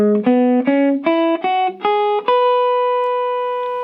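Electric guitar picking a short ascending scale of practice notes for a song's solo, single clean sustained notes stepping upward in a steady rhythm, ending on a long ringing note that slowly fades. No voices.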